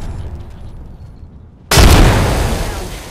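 A frag grenade in Apex Legends goes off after a short quiet stretch, a sudden loud explosion with a booming burst that rumbles and slowly fades, no talking.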